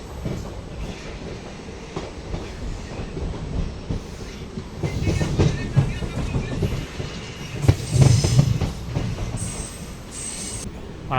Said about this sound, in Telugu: వచ్చింది బయలుదేరుతుంది మన ట్రైను.